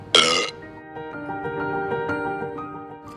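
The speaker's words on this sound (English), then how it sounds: "The wolf let out a satisfied burp" A cartoon wolf lets out a single loud, rough burp at the start, followed by soft tonal background sound.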